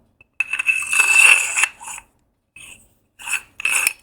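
A machined metal lightsaber handle is screwed onto a metal chassis, making a close, gritty metallic scrape in one longer burst followed by a few short rasping clicks as it locks down.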